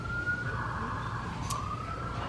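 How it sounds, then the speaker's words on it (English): Police siren passing by outside during a live recording, a wailing tone sweeping up and down at moderate distance over steady traffic rumble. "as you can hear the sirens go by, the police"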